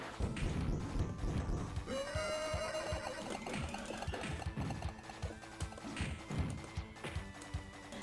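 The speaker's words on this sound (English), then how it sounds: "I hope you really like that horse noise" A whinnying horse sound effect from a TMNT arcade game stage on a train, a rising neigh over busy game music and clattering hoofbeat-like thumps, fairly loud in a dense mix.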